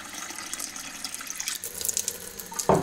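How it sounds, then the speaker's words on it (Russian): Cold water pours into a container of boiling water in a home kitchen, a close, splashy gurgling stream with a brief louder splash at the end, no voices. "Перемешиваю холодную воду с кипятком."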